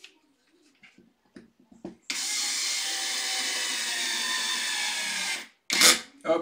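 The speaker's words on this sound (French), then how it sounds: "la visseuse a freiné" Cordless power screwdriver driving a screw into the differential of a Losi 5ive RC car, preceded by small clicks of handling parts, then a steady close whir for about three seconds before braking to a stop.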